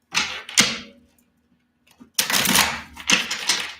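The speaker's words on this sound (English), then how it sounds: "Some more shuffles." Tarot cards are shuffled by hand close up in bursts: two quick riffles, a pause, then a longer crisp riffle followed by another, papery and sharp in a quiet room.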